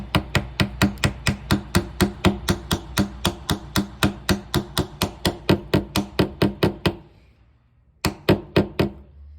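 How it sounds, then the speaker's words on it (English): Rapid, steady series of sharp hammer knocks driving a marker tip into its holder, about three per second, loud and close, then a brief pause and a few more strikes. "I'm going to hammer it all the way down"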